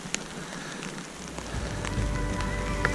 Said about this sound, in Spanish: cayó granizo, se puso un poco heavy el clima